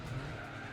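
Tires squeal and skid as a car brakes hard in the Gran Turismo 4 racing game on PS2, a short, quiet smeared screech with engine rumble underneath.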